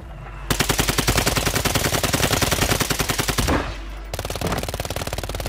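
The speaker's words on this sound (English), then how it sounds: "Getting shot from across the way now." Automatic gunfire in the video game Warzone: two long rapid bursts of close, loud, evenly spaced shots, the first about three seconds long, a brief pause, then another burst.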